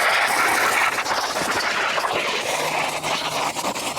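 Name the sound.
hose jet spraying water to clean the pool skimmer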